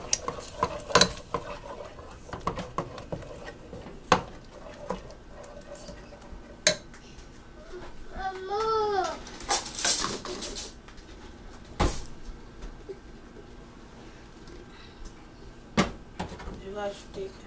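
Food being mixed in a home kitchen, with scattered clinks and knocks of utensils against dishes, a short burst of scraping and whirring in the middle, and quiet gaps between the sharp taps.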